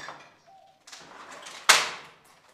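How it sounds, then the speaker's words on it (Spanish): A door is pushed open inside an abandoned house, a faint creak and scrape followed by a sudden loud bang or rattle that fades out in the empty room. "se puede abrir una puerta"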